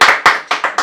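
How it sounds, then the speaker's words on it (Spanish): Five sharp, close hand claps in a quick, slightly uneven rhythm, loud and dry, from a talk-show setting. "Pinche aplauso"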